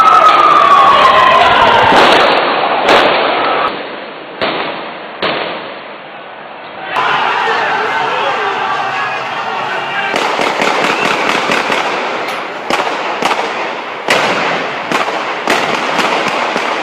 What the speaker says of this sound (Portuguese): Passeatas sendo reprimidas com tiros de armas letais.